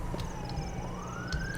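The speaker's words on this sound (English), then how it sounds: "Can we, like, not have gigantically loud sirens in the background?" A wailing police-style siren from the 007 Nightfire video game rises steadily under a dense, busy game soundscape, running continuously in the background with no talk.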